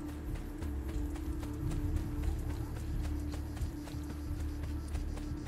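A horse gallops in Assassin's Creed II, a fast, steady patter of hoofbeats running continuously over a low background hum, moderately loud and close.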